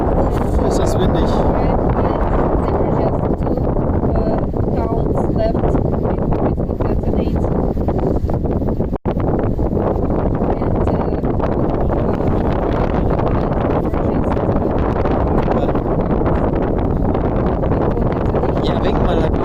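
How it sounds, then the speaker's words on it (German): Strong wind buffets the microphone outdoors in St. Petersburg, a loud, constant roaring rush that drops out for an instant midway, with no clear talk over it. "Es wird halt immer schlimmer gerade vom Wind her."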